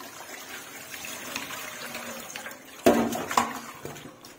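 Tap water running into a cooking pot in a home kitchen, a steady soft gush that grows louder and splashier near the end.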